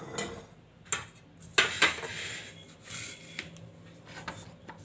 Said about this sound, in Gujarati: આપણે આ મિક્સર જાર લેવું,